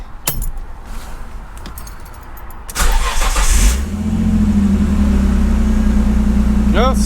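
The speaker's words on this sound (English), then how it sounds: "We're gonna start the car." A car with an RB-series engine fitted with an R35 VR38 coil bracket kit cranks briefly after some jangling keys and clicks, then catches and settles into a loud, steady idle close by.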